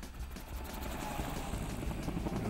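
A helicopter in the video game Charlie Murder whirs faintly and steadily with a continuous rotor-like drone, no voices heard.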